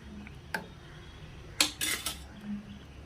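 A pot of khichuri lifted off a stove, a few metallic clanks and scrapes of cookware, close by in a quiet kitchen.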